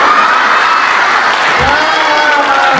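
Audience applause at a Hindi comedy poetry recital, a steady wash of clapping that fills the whole stretch at close, loud level.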